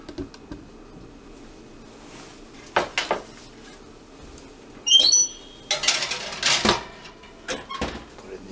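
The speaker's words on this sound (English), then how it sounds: "Put it in the oven." A baking tray of chocolate chip cookies goes into a home oven: quiet handling, then a cluster of loud metallic clanks and scrapes, a brief squeak, and a final clatter as the tray settles.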